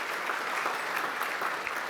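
Audience applause at an evening ethnic business awards ceremony, a dense, steady wash of many hands clapping at moderate distance throughout.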